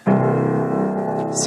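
A single deep piano note pair, a low C octave struck together and left ringing, a low sustained tone fading slowly over a second and a half.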